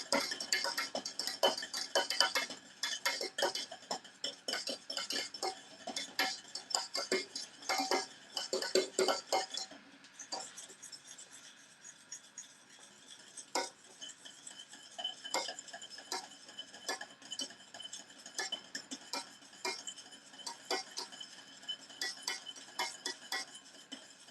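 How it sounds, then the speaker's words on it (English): A whisk rattles and clinks against a bowl as sauce for a ragu is beaten by hand, a rapid irregular metallic ticking that runs steadily, briefly easing midway, fairly close with no talking. "I think I gotta whisk it with my wrist more."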